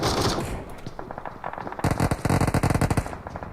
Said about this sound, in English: hits his mark with the over-under shotgun